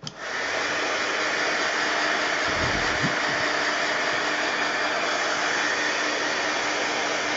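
A hair dryer blows steadily to dry handmade mixed-media craft pieces shaped like Christmas trees, a close, even whoosh that starts abruptly and runs unbroken.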